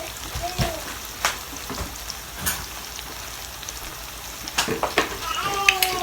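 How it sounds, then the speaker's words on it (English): Pureed garlic goes into a hot pan and crackles with a soft frying sizzle, scattered sharp pops and clicks over a low hiss, fairly quiet and close. "To this, guys, I'm gonna add some garlic."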